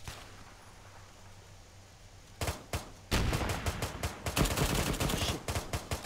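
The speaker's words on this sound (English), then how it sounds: "Reloading machine gun!" Bursts of automatic machine-gun fire in a military shooter game, quiet at first, then loud rapid volleys of shots packed close together and continuing steadily to the end, with no talking.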